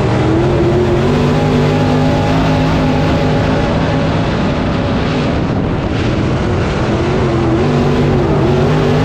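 Modified race cars roar around a dirt oval track, a loud continuous engine drone with rising and falling pitch as cars pass, heavy and close.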